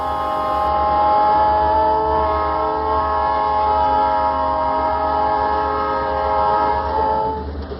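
A moving train sounds a long, sustained horn over the steady rumble of its travel. The horn tone stays loud and even for several seconds before easing off, with no talking.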